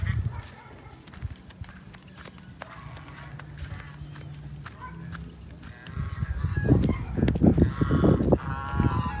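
Pet swans honking outdoors, a few scattered calls early and a louder burst of honks near the end, with people talking nearby and some footsteps and movement.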